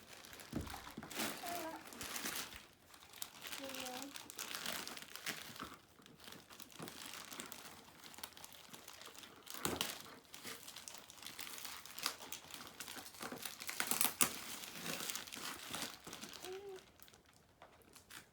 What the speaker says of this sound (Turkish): İstersen önce poşetleri aç